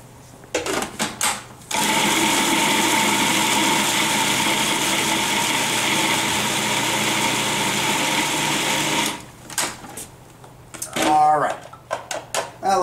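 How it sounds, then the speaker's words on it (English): A food processor runs continuously on lobster meat, grinding it to a fine mince with a loud, steady motor whir lasting several seconds, flanked by brief clatter and handling noises before and after. "we're going to dump this meat into this food processor and just run it so we get a nice fine mince on it"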